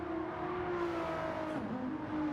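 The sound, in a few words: race car crossing the finish line in the video game Gran Turismo 7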